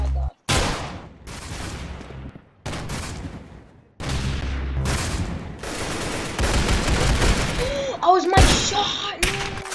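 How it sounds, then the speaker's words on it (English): Rapid bursts of automatic sniper rifle fire in a free-for-all shooter game, sharp cracks in clustered volleys separated by brief gaps, loud and close, with a few higher electronic game tones near the end. "I forgot the sniper was automatic."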